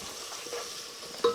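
Onions with tomato and ground spices fry in a pot at an outdoor chicken curry cookout, a faint steady sizzle ending in one sharp metal clink of a spoon against the pot.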